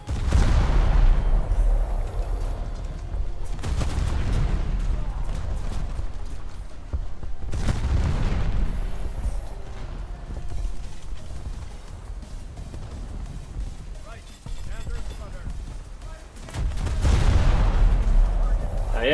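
Tank cannons in War Thunder fire several times at intervals of a few seconds. Each is a loud, booming report with a rolling tail over steady engine and battle rumble, and a voice talks at times.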